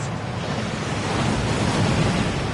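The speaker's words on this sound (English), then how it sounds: "That waterfall washes away all enchantments." The waterfall in the Gringotts vaults in the game Hogwarts Legacy pours with a loud, constant broadband rush, thick and unbroken like heavy falling water, close and steady throughout.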